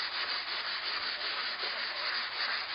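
Finer 220 grit sandpaper is rubbed by hand over a repaired hollow wooden door. The scratching is close and steady, a soft even rasp with gentle back-and-forth pulses and no voices.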